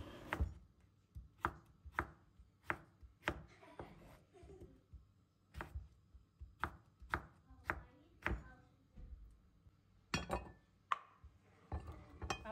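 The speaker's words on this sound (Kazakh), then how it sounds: "Қиярымызды да сәл ірілеу етіп турап аламыз" A cucumber being cut into coarse pieces for a salad, a knife striking the board in about fifteen sharp, close chops at an uneven pace, with brief pauses and occasional light clinks between them.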